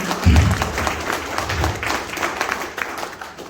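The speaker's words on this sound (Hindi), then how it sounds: "जोरदार तालियां इनके लिए।" An audience claps loudly at a motivational speech event in Manali, a dense burst of applause starting abruptly and continuing steadily, slightly tapering toward the end.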